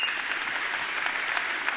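A studio audience applauds steadily as a guest is called up onstage at a motivational talk, dense continuous clapping throughout with no voices over it.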